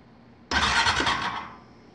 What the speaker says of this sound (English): that's the electric fuel pump.